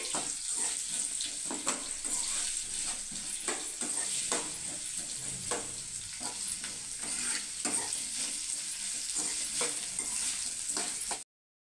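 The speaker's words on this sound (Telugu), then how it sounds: "ఇప్పుడు ఈ ఆనియన్స్ లైట్ పింక్ షేడ్ వచ్చినంత వరకు కూడా ఫ్రై చేసుకోవాలి." Onions frying in a pan, a continuous close hiss and sizzle with scattered sharp crackles and light stirring clicks, steady in loudness, with no talking, cutting off abruptly at the end.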